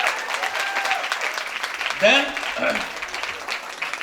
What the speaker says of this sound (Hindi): हम सभी के लिए एक बार जोरदार ताली होना चाहिए